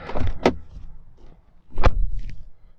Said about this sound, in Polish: zamknę sobie drzwi.